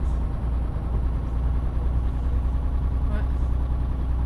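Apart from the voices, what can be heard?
truck engine in Euro Truck Simulator 2 video game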